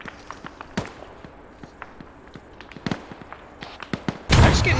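A frag grenade blast in ARMA 3 erupts loud and close near the end, a sudden broadband burst that follows scattered sharp pops and distant gunfire cracks.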